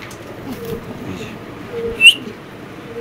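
A male Budapest pigeon coos softly up close, giving low murmuring calls over a quiet background, with one brief sharper sound near the end.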